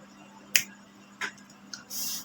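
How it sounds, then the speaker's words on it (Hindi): A few sharp, isolated finger snaps ring out in a quiet room, three crisp clicks spaced apart over a low steady hum, followed by a brief hiss of noise. "चुटकी बजा लिया हूं मैं"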